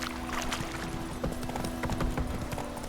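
Geralt's horse Roach in The Witcher 3 gallops with steady, close clip-clop hoofbeats over a low ambient hum, no voices.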